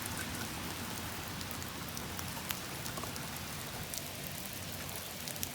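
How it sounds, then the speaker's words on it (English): Steady, dense rain patters down in a garden during a thunderstorm, a close, even hiss of drops on surfaces that continues without pause; no distinct thunder rumble stands out. "thanks a lot for joining me outside in the rain today"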